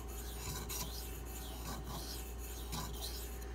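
A Spyderco Manix 2 knife is drawn head-on across a Pride abrasive in repeated rasping strokes, several close scrapes in an uneven rhythm, with no talking.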